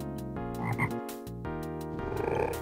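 Cartoonish toad croaks from the Legend of Kyrandia 2 adventure game, set over a layered musical score, with several croaking bursts near the start and denser activity toward the end.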